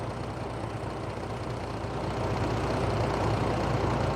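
A vehicle's engine idles with its exhaust running, giving a steady, loud, low rumbling drone with no breaks that grows slightly louder partway through, and no voices.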